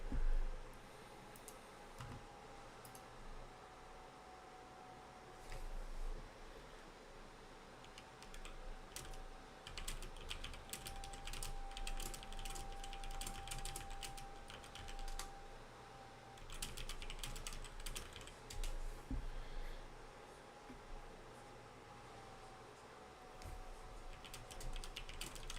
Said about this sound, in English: Hope you guys enjoyed my typing, which is always a staple of my streams.